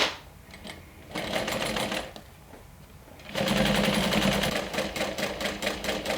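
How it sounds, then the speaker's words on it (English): A sewing machine bastes two fabric layers together at a seam, running in close, loud bursts of rapid mechanical stitching separated by short pauses. "let's go ahead and baste these two together."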